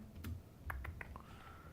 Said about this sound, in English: if I go ahead and start typing